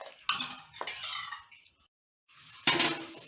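A metal spoon pressing chopped medicinal leaves against a strainer to squeeze out their juice, giving a few scraping clinks at a close distance with a short pause between strokes.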